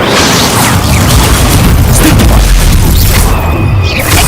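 A loud, dense burst of the Incendio fire spell in Hogwarts Legacy, a heavy booming blast with crackling debris that holds steadily for several seconds, close and forceful.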